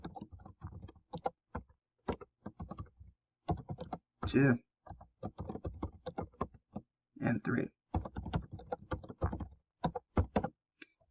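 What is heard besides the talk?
typing assignment names into Excel on a computer keyboard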